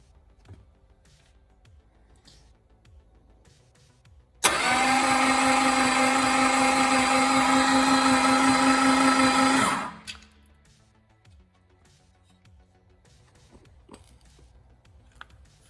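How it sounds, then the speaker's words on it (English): Starter motor spinning a CNC-ported 265 Hemi engine to build oil pressure: a loud, steady whirring drone that starts abruptly, holds for about five seconds, then cuts off, with a quiet workshop before and after. "So we'll give the starter motor a bit of a hit"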